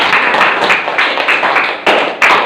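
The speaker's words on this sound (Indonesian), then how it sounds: "Tepuk tangan dulu buat" Classroom audience clapping, a dense burst of many hands striking together fairly close by, with a couple of sharper surges near the end.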